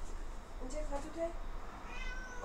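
A cat meows a few times nearby, short and plaintive, over quiet room noise.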